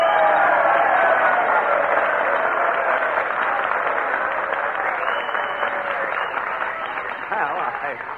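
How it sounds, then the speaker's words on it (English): Audience applause at a New Year's Eve party at the Biltmore Bowl, a dense, steady wash of clapping from a large crowd that fades slightly toward the end. "with a little encouragement and applause"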